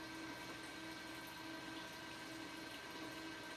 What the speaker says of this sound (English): we're taking a good, nice little demo look at one of our AQ pumps, which is also AKA the low level suction pump.